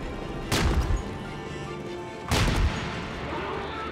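Cannon fire in a Turkish historical drama dubbed into Urdu: two heavy, booming blasts about two seconds apart, each with a rumbling decay over a quieter noisy background.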